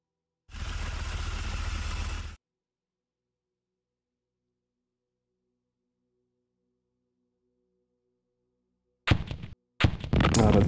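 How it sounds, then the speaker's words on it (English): A mortar shell explodes in the WW2 turn-based tactics game Brass & Steel, a single heavy burst lasting about two seconds, loud and dense, followed by silence and then a few sharp clattering hits. "That was a mortar, okay."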